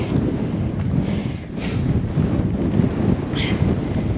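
Strong wind buffets the microphone on an exposed fell path in Great Langdale, a steady loud roar with low rumbling gusts throughout.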